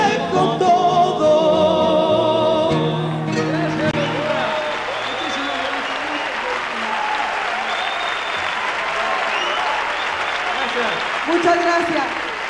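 A theatre audience applauds a Mexican bolero group, loud sustained clapping that rises out of the final musical notes and continues steadily to the end.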